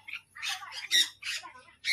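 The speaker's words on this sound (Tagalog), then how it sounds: "Do not touch the bird." Bird squawking repeatedly at a farm in Thailand, harsh bursts close by in an irregular rhythm, with short gaps and faint background noise.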